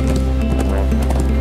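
Cartoon horse galloping in a children's animated adventure, a steady quick clip-clop of hooves over music, with no talking.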